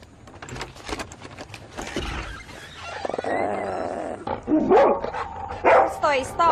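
A dog barks repeatedly and excitedly, loud and close, with yips mixed in, while people talk and shout over it in an indoor home setting.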